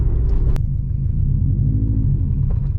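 A manual-transmission car with a short-throw shifter bogging down near stalling, a loud, close, low engine rumble that holds steady with a brief sharp click early on, no talking.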